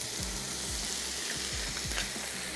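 Oil sizzling steadily in a pan as it heats before pancake batter goes in, a continuous close frying hiss with faint stirring or scraping clicks and no talking.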